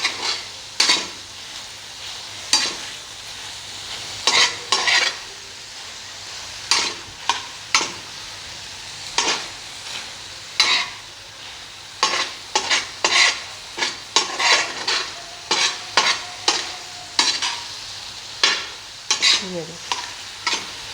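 Liver mixed with spices and green chillies being stirred and fried on a tawa, with a low continuous sizzle punctuated by a regular run of sharp scraping strokes from a spatula, close and loud, and a brief spoken word.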